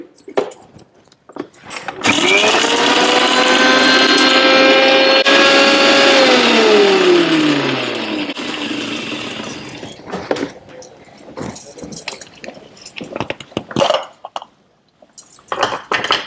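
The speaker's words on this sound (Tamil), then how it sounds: "நம்ம மிக்சியில் போட்டிருந்தோம் இல்லையா, அதை அரைச்சிடலாம்" An electric mixer grinder spins up to grind a spice mixture, a loud steady whine with rising harmonic tones that holds for several seconds before winding down, followed by clattering and handling noises.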